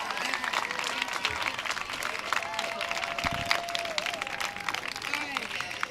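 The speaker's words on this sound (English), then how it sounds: "Please clap for everyone that shared." Audience applause at a gathering: a dense, steady patter of many hands clapping at moderate loudness, with a voice speaking over it partway through.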